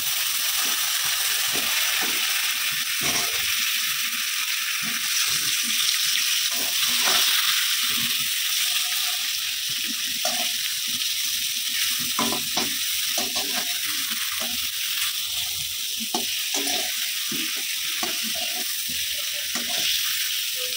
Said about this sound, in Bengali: আজকে রান্না করবো হচ্ছে বেগুন ভাজা